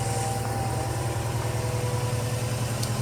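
A 2018 Honda Civic Si with its muffler deleted idles nearby, a steady throbbing engine rumble with a low pulsing exhaust note, close and continuous with no talk.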